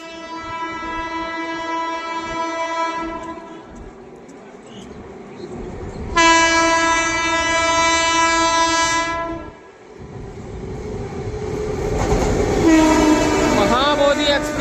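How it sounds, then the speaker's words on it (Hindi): Indian Railways train hauled by a WAP7 electric locomotive runs through Tundla station, sounding long, loud horn blasts over rumbling wheels and rail clatter as it passes close by. "एक और भाई ट्रेन अपनी टूंडला को स्किप करने वाली है। यहाँ WAP7 के साथ आ रही है, सिग्नल ग्रीन है।"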